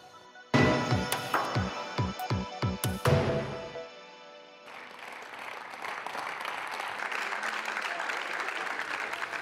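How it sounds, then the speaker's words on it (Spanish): Applause in a parliament chamber as one party's deputies close an investiture speech, loud rhythmic clapping bursts for a few seconds, then a fainter, steadier patter of clapping continues. "Son los aplausos con los que los populares cerraban el tercer discurso de investidura de Alberto Núñez Feijóo."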